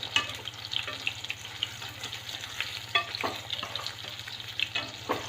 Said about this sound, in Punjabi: ਆਪਾਂ ਹਲਕਾ ਜਿਹਾ ਹੀ ਇਹਨਾਂ ਨੂੰ ਘਿਓ ਦੇ ਵਿੱਚ ਪਾਵਾਂਗੇ ਔਰ ਨਾਲ ਦੀ ਨਾਲ ਆਪਾਂ ਇਹਨਾਂ ਨੂੰ ਹਲਾਉਂਦੇ ਰਹਾਂਗੇ